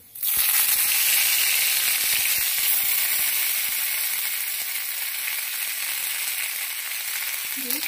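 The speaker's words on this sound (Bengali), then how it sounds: "এবার বেটে রাখা লাউ পাতাটা এবার দিয়ে দেবো এর মধ্যে।" Ground bottle gourd leaf paste hits a hot pan with kalo jeera and sets off an immediate loud, steady sizzle and frying hiss that holds for several seconds close up, with faint scraping underneath.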